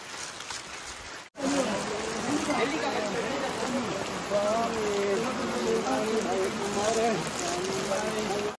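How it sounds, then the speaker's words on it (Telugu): Heavy rain pours steadily in a muddy forest during a trek, a dense continuous hiss that briefly cuts out and then resumes, with voices talking over it most of the time. "వాన మాత్రం తగ్గట్లేదు."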